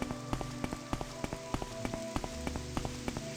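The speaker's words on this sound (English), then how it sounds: "Oh good, rain" Steady rain falls in the Morrowind video game, a dense patter with crisp droplet ticks scattered throughout, layered over sustained soft musical tones.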